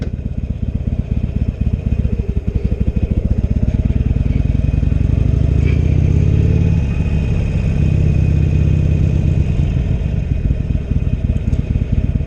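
A Harley-Davidson Iron 883 Sportster rumbles close by while being ridden, its lumpy V-twin pulses loud and steady, swelling as it accelerates around the middle and settling back.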